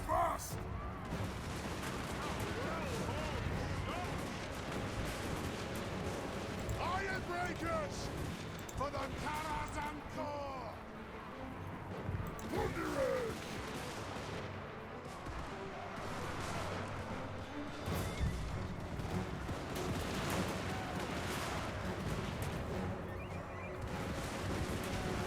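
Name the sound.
Dwarf units firing in video game siege battle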